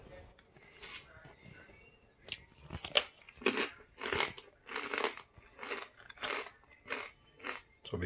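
Crunchy bread stick baked from rice flour being bitten and chewed close up, a series of crisp crunching bursts in a steady chewing rhythm after a quieter start.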